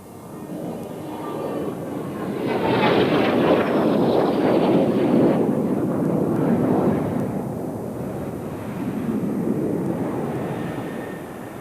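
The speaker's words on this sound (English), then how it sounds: "this mirror formation with a rolling third aircraft is an intriguing combination and particularly difficult to fly" Display team aircraft fly a mirror formation while a third aircraft rolls around them at an air show, a jet roar swelling from a distance to a loud pass, fading, then rising again.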